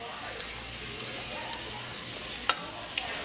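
Bacon sizzling steadily in a pan while spaghetti is being cooked, a soft continuous crackle with a few brief utensil clicks and one sharper scrape near the end, fairly quiet and with no talking.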